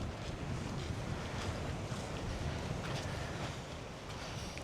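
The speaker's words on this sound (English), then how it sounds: "It's a bit windy, but it's not bad." Wind buffets the microphone on the seafront at St Ives in Cornwall, with the wash of swells and surf beneath it as a continuous, even roar and no voices.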